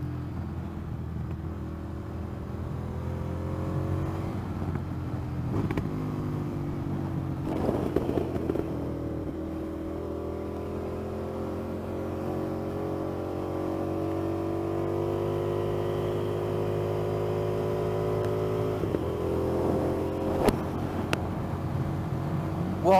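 An Indian FTR 1200 motorcycle engine idles with a steady low rumble and is revved several times, its pitch rising and falling in swells, heard close and loud throughout with no talking.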